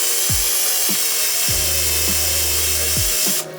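Spot weld cutter drilling out spot welds on the body panels of an R32 Nissan Skyline barn find, a loud high grinding whine with repeated motor start-ups and bursts of cutting, close and alone.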